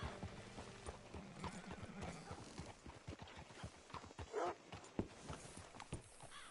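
Horse hooves clip-clop in a steady, uneven rhythm at moderate distance, with some background rustling and no talking.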